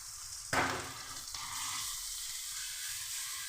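Ground spices sizzling in oil in a pan for a chicken momo dish: a loud burst of frying as something hits the pan, then a steady hiss with soft scraping stirs underneath.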